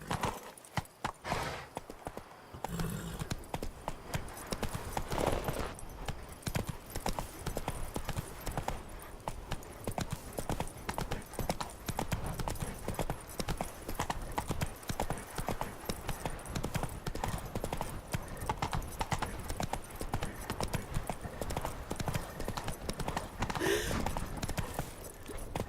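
Horse hooves gallop steadily in The Witcher 3, a fast, continuous clatter of hoofbeats running nearly the whole time under a layer of game ambience, with a brief quieter start.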